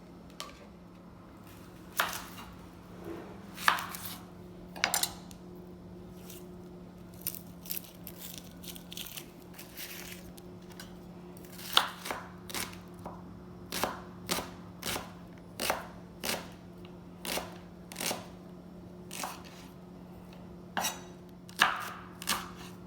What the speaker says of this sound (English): So we have some of the onions that I just chopped up here